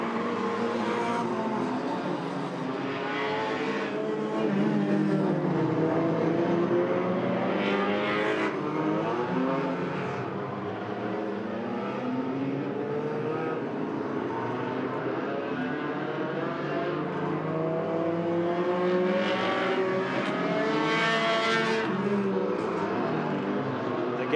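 Several hornet-class race cars run a continuous enduro at Agassiz Speedway, a layered, wavering roar of engines revving and passing at mid distance with no talk over it.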